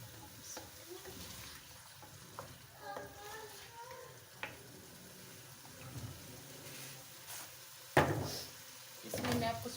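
Chicken masala with Shimla mirch frying in oil in a pan and being stirred, giving a low, steady sizzle with soft scraping, a sharp clatter near eight seconds and a louder burst of stirring at the end.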